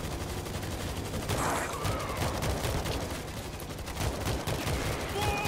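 Rapid bursts of heavy gunfire from a powerful gun in the World War Z video game, loud and continuous, with a chaotic game soundscape behind it and faint talk mixed in.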